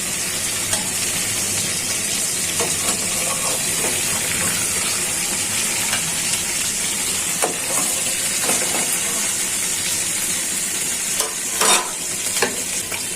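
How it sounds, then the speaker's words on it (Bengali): Eggs frying in hot oil in a pan for egg korma, a loud, continuous bright sizzle with occasional stirring scrapes and bursts of spatter. "ডিমগুলো কোরমার জন্য ভাজা হয়ে গেছে, ডিমগুলো উঠিয়ে নিচ্ছি"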